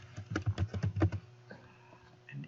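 Keys clatter in a quick run of close taps on a computer keyboard used with quilting design software, then go quiet apart from a single faint later press.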